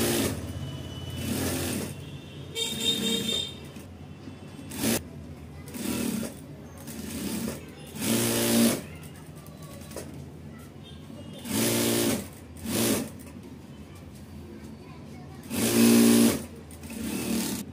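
A domestic sewing machine stitches all around the side piece of a katori blouse in repeated bursts of rapid whirring, pausing between runs while someone talks over and between the stitching.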